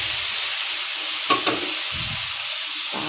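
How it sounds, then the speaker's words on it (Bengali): Boiled banana flower goes into spices frying in a pan, a hissing sizzle throughout with a couple of quick scrapes and soft low thumps from stirring. "মশলাটা আস্তে আস্তে মোচা সেদ্ধগুলো দিয়ে দেবো।"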